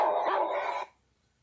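A person imitates a barking dog with one short, loud, rough bark-like vocal burst during a classroom science activity on the larynx, then silence.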